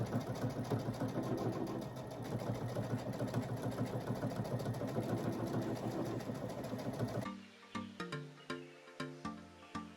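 A sewing machine stitches decorative patterns on a quilted table topper, running in a fast steady mechanical whir for about seven seconds, then slowing into separate thumping stitches before stopping.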